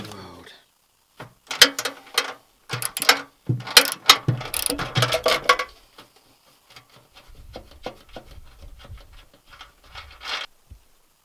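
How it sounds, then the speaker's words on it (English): Socket ratchet undoing the seat bolts in a VW T5/T6 van, bursts of clicking pawl strokes and metallic rubbing, louder in the first half and then softer, scattered clicks. "find the right socket and undo them all"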